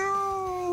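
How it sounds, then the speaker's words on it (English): A creature in the video game Satisfactory lets out a single drawn-out meow, a clear tonal cat-like cry that sounds close and loud and slowly falls in pitch. "They meow when they jump at you"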